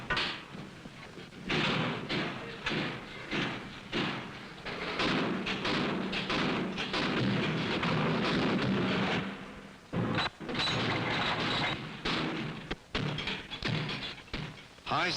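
Remington rifles and shotguns, including .22s, are function fired, producing repeated heavy shots and thuds in irregular bursts within a loud, dense, continuous background.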